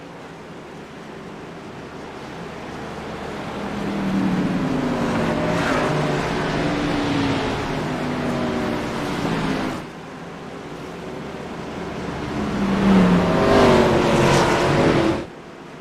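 Race cars in a sim racing game at Nashville accelerate back to green-flag racing after a pace car period, a loud sustained engine roar that rises in two surges with shifting tones and no talking.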